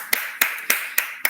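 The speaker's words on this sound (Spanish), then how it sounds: "un aplauso para ustedes" A few people in a classroom clap in five sharp, evenly spaced strokes, close and fairly loud, with no voices over them.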